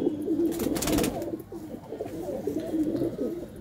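Pigeons in a Ludhiana pigeon sale, including a golden red-eyed bird, coo steadily in soft, overlapping low calls, close by and continuous with no talk.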